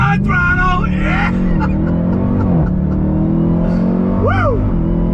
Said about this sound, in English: On throttle, yeah!